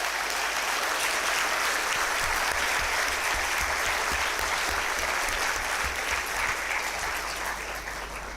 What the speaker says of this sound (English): Can you all offer your respect and pronouns to your lovely parents with a huge and heartfelt round of applause